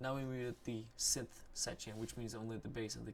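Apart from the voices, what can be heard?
No everyday noise stands out behind the speech.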